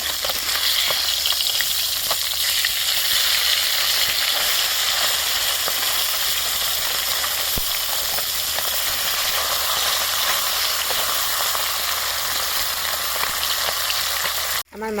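Half-fried bata fish, just turned over, sizzles in hot oil in a wok: a strong, unbroken frying hiss with one brief sharp tick in the middle, ending with a sudden cutoff.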